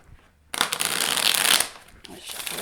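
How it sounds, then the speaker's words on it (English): A deck of fortune-telling cards is shuffled by hand in a quick riffling burst of crisp flapping and rustling that lasts about a second, then settles into softer handling noise. "Let's shuffle it real quick."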